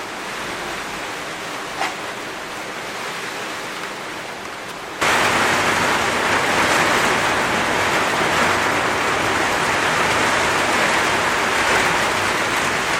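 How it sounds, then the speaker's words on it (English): Heavy rain pours outside a window in northern Kenya, a dense steady hiss that grows much louder partway through and continues unbroken with no talking. "It's pouring rain outside."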